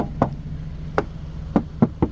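An Alfa Romeo Stelvio's large, lightweight door shuts in a series of dull, solid thuds, five or six short knocks spread over two seconds, heard close with no talking.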